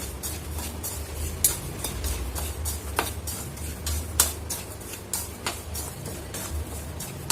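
Peanuts dry roast in a pan over medium heat at home, a quiet run of dry ticks, rattles and scraping stirs with irregular sharp clicks, close and with no voices.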